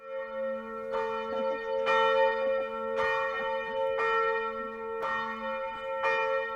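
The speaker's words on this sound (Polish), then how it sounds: "dzwonki uderzając o siebie mają wydawać dźwięki" Ringing metal bells on a monument strike each other in a slow, uneven sequence, each clang sustaining a long tonal hum that overlaps the next strike.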